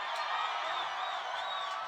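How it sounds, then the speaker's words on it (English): Crowd cheering and whooping at a bouldering World Cup final, a steady, dense roar of many voices with no individual words standing out, sustained at an even level throughout. "But listen to this crowd."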